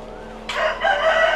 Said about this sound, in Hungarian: hát sok kakast ugye a kakasviadalokra tartanak.